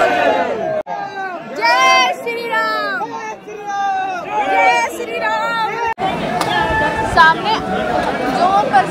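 A busy crowd of worshippers at the Ayodhya Ram Mandir fills the air with overlapping chatter, several loud nearby voices standing out above the general hubbub.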